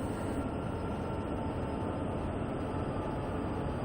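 Steady, loud rumble of a train running under power in the game Train Sim World 2, a continuous broadband drone with no pauses and no voices.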